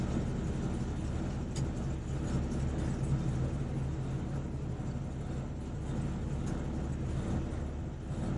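A turbocharged Honda Civic with a B18B1 engine makes a street run on low boost, heard as a steady, loud engine roar and road rumble that holds at an even level throughout.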